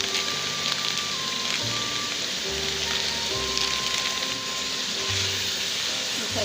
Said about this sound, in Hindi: सब चीज़ें मैंने शामिल कर दी हैं। अब इनको फ्राई करेंगे।